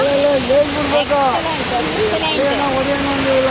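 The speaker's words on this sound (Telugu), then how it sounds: "మీకు వాటర్ ఫాల్స్ మాత్రమే చూపిస్తాను" A steady roar of falling water fills the whole stretch at Hogenakkal Falls, with a person talking over it throughout.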